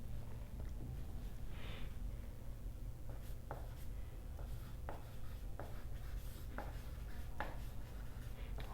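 Handwriting of the general form of a homogeneous function in x and y during a calculus lesson, heard as quiet, intermittent scratchy strokes and taps over a low steady hum, with no talking.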